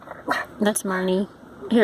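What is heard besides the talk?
dog barking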